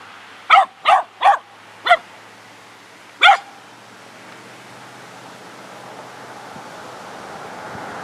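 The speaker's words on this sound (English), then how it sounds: "They got their watchdogs. That big one acted like he was gonna be bad" Watchdogs on a rural Missouri property bark five sharp times, four in quick succession and then one more after a pause, over steady wind noise with no talking.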